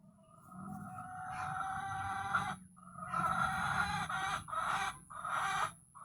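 A chicken clucks in a backyard vegetable garden, in repeated close bursts with short pauses between them, alone with no talking.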